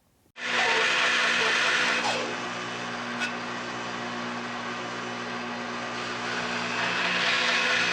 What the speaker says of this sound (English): Now I'm going to cut this out on the bandsaw and shape the rest of it.